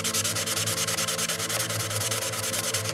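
Raw wood on a balsa model aircraft being sanded by hand with sandpaper from a roll: a close, steady rhythmic scratching of quick back-and-forth strokes.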